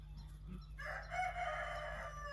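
A rooster crows once, loud and drawn out, over a steady low hum of background noise.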